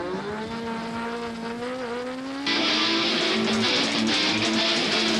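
A race car pulls out of the pits at Summit Point during a 2002 six-hour endurance race, its engine note climbing close by, then surging louder and brighter partway through as it accelerates away.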